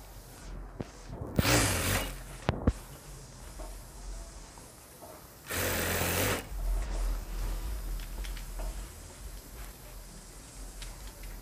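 A sewing machine stitches the shoulder seam of a ladies' jacket in two bursts of fast, even whirring, the second one longer, with quieter handling of fabric and clicks in between.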